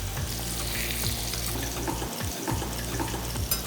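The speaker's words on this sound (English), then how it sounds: "So I'm searing it off on a high flame." Paneer searing in neutral oil in a pan over a high flame: a dense, continuous sizzle with light crackle and occasional stirring or handling noises.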